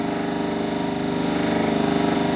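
A DC shunt generator spinning near its rated 1500 RPM in a lab test, giving a steady, continuous mechanical hum with a fine rapid pulsing throughout.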